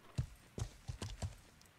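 Horse hooves clip-clop in the medieval survival game Life is Feudal, four or five soft, evenly spaced hoof strikes heard up close.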